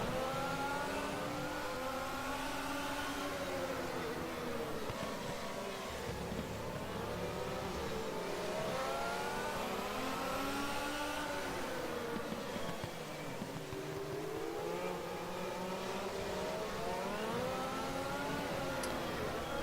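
Several Formula 1 2014 car engines in the game rFactor drone at low revs, rising and falling in slow sweeps, a continuous mechanical hum with no talking.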